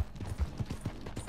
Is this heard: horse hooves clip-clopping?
yes